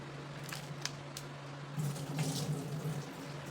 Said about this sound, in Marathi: तर ह्यातलं आता पाणी काढून घेतलं आहे.